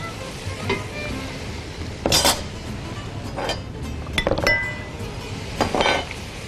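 Home-fried onions are cooked into a fish korma in a pan, sizzling steadily while a spoon stirs and strikes the metal in several sharp, close clinks spaced a second or so apart.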